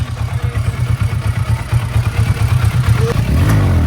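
Kawasaki Versys twin-cylinder motorcycle engine, a loud close pulsing throb that runs steadily and rises briefly at the end.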